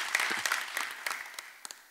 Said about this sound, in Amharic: እስቲ አጨብጭቡለት በደንብ አርጋችሁ።